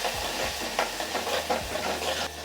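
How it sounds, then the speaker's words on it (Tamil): Large onion sizzles steadily in a hot pan as it is sautéed, with soft scraping stir strokes repeating through the continuous frying hiss. No one speaks. "நான் பெரிய வெங்காயம் தான் சேர்க்குறேன்."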